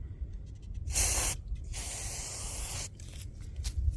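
Two bursts of aerosol spray cleaner hiss close by into a 2007 Dodge Ram Hemi throttle body, a short one then a longer sustained blast, followed by softer sputtering spurts.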